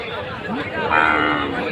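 A calf lows once at a Qurbani cattle market in Joynagar, South 24 Parganas, a rising bellow over a busy crowd murmur, with people chattering nearby throughout.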